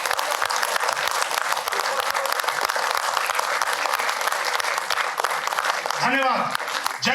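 Sustained applause from a large theatre audience after a play performance in India fills the space, dense and continuous, with a voice briefly audible near the end.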